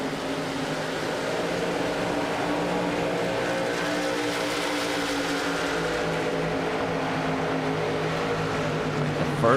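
Race cars roar around an oval track at a VSpeed Contender Series event, a dense, steady engine drone at close range holding evenly throughout with no talk over it.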